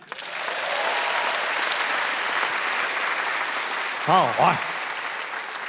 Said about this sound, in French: Par applaudissement à ceux et celles qui se sentent heureux dans la vie.